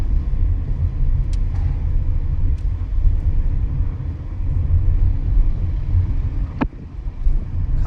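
Car engine in a manual car during a driving lesson on a quiet single-lane road, a steady low rumble holding throughout with a couple of brief sharp clicks or squeaks, no talk over it.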